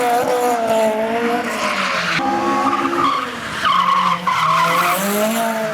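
A car drifts on a street course, its tires squealing loudly in long wavering screeches that shift pitch over the engine's roar.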